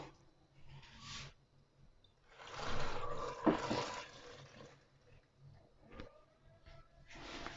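Water poured into a cooking pot with mushrooms, arriving in uneven gushes and splashes that swell and fade, close by and moderately loud, with no talking.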